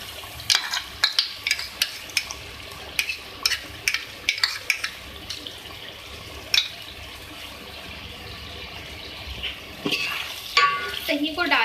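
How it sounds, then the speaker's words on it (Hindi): Masala with added yogurt being fried and stirred in a pan for chicken palak with methi, with repeated sharp spoon scrapes and knocks over a steady sizzle, loud and close. "दही को डाल के आप भून लें।"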